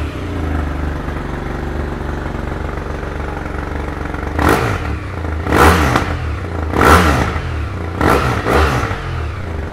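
A 2018 BMW F800R Sport ABS motorcycle idles steadily, then is revved hard four or five times in quick throttle blips, each rising sharply and falling back to a close, loud idle.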